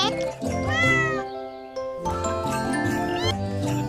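Several loud, close cat meows in quick succession, drawn-out and rising, with a short pause between bursts and faint jingling underneath.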